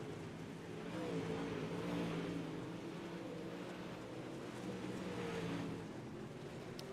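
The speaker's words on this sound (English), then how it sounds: "Drivers getting in those final practice laps." Race cars run warm-up practice laps at Lernerville Speedway, a steady engine drone rising and falling at moderate distance with no one talking.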